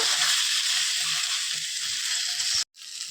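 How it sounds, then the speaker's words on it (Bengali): Ginger, garlic and chili paste sizzling in hot oil in a pan for a Bengali mutton curry, a steady bright frying hiss with soft scraping stirs underneath, briefly cut off near the end before resuming. "আদা রসুন লঙ্কার পেস্টটা আমি দিয়ে দিলাম এবার এটাকে আমি ভালোভাবে কিছুক্ষণ ধরে কষিয়ে নিব"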